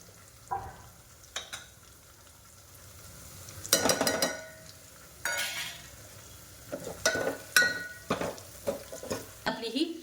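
Sambar masala, chilli powder and turmeric fry in a hot dal tadka with garlic-ginger paste, a steady sizzle broken by bursts of spoon stirring and pan scraping, close and moderately loud.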